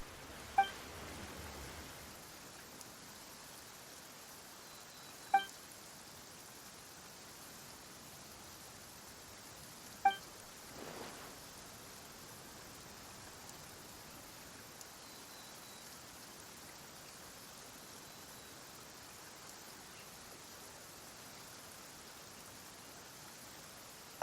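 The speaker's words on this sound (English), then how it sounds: "Why is it raining all of a sudden?" Steady rainfall in the Genshin Impact video game, a soft continuous hiss of rain holding evenly throughout, with a few faint clicks standing out and no voices over it.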